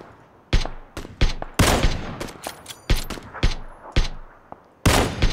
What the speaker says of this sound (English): I hear the shots.